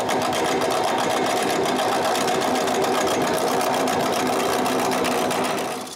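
A wood lathe turns a cylinder for a nutcracker head, giving a steady, loud, continuous whirring drone with a rapid rhythmic buzz throughout, alone and easing off at the very end.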